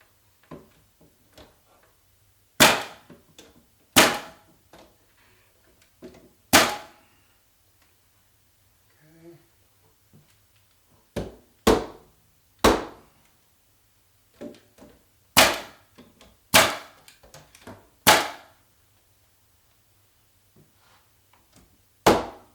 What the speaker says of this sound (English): I'm using the back of my gun as a hammer